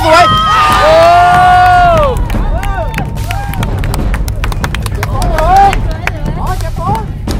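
A crowd of fans cheers and shouts loudly at an amateur football match in Suphan Buri, with a rising roar at first, then scattered whoops, claps and excited voices chattering throughout.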